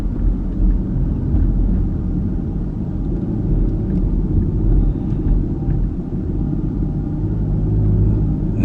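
Low, steady road rumble from inside a car driving through hilly San Francisco city streets, a dense deep drone with slight swells and no voices.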